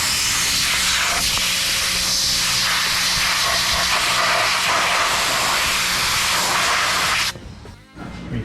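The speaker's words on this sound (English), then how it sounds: "Let's go ahead and pressure wash this guy." A pressure washer blasts rusted engine parts from a BMW E30 325i, a loud steady close hiss of spraying water that cuts off abruptly near the end.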